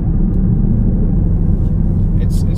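Hard launch of a 2018-2019 Ford Mustang GT fitted with a BMR CB762 anti-wheel-hop setup: a dense, loud, steady low engine roar that fills the whole moment, with no break in it.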